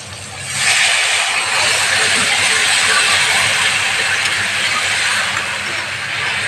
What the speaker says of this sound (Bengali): তো আমি এখন জলটা দিয়ে দিচ্ছি।